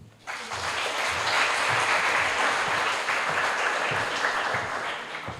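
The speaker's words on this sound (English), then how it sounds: "I think she deserves another round of applause for summiting as well." Sustained audience applause fills a museum exhibition launch, steady dense clapping from a crowd after a speech, starting abruptly and holding level throughout without talk.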